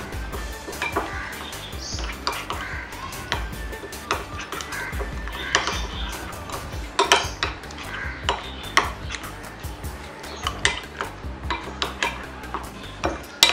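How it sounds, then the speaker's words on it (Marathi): Spice masala, salt and lemon juice being stirred together in a bowl, with a spoon repeatedly scraping and clinking against the sides in a steady, close rhythm. "हे चांगलं आपण मिक्स करून घेऊया।"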